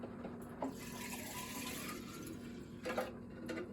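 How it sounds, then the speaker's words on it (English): Green juice from a Nama J2 juicer pours into a half-gallon (64-ounce) glass mason jar, a steady liquid stream gurgling continuously at close range, with a few brief clinks and splashes and no talking. "this is a half a gallon mason jar, 64 ounces, half a gallon. And I'll pour this into here."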